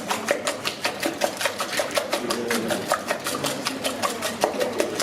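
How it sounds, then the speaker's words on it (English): Eggs whisked in a bowl for blueberry baked French toast in a school food and nutrition class, a fast, steady run of sharp rhythmic clicks and taps that stays loud and even throughout, with no talking. "we've got to whisk it so that you can't see any difference between the egg whites and the yolk"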